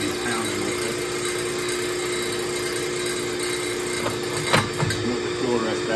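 A wooden mallet spins on a wood lathe while sandpaper is pressed against it, giving a steady close motor hum with a broad abrasive hiss and a brief scraping flare near the end.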